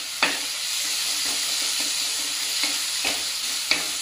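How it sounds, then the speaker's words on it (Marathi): Masala spice paste frying in a pan with wild kurdu greens, a steady close sizzle broken by several scraping strokes of a spoon stirring through it; no talking. "व्यवस्थित मसाला पण असा मस्त फ्राय करून घ्यायचा आहे"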